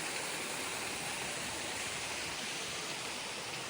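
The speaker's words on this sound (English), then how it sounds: "It's a waterfall" A waterfall on a mountain trail gives a constant, even, broadband rush of falling water, steady and fairly close, with no voices.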